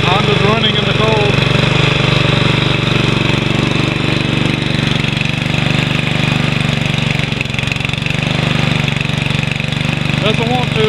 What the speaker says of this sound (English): The Honda's running in the cold.